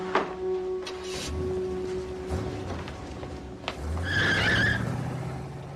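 A red sports car speeds away with a brief tire squeal and skid, then its engine roars up nearby before fading, with no talk over it.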